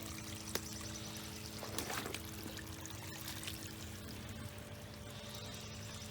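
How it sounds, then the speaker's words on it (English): Water trickles and pours steadily through a blocked concrete area during high water at a lodge, a continuous close wash with a faint low hum underneath and no talk. "You can see it's just trickling through here"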